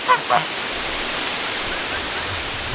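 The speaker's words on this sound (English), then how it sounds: "Now we're filling up their little kiddie pool, one of them." Fresh water gushes into a small kiddie pool outdoors as a steady, broadband rushing stream, with a couple of brief animal honks near the start.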